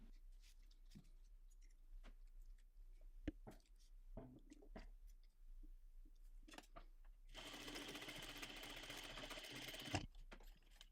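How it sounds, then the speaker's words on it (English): A sewing machine top-stitches along a bag, its steady whirring burst running for about three seconds near the end, with softer handling clicks and rustles before it. "we're going to head to our sewing machine, and we're going to top stitch along here"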